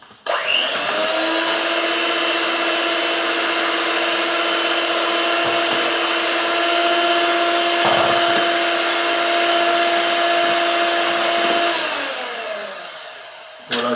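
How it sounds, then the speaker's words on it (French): An electric hand mixer runs steadily for about ten seconds, beating eggs with sugar into a white foam, a loud even whine with a clear motor tone that winds down near the end, with no talking. "Avec le batteur électrique."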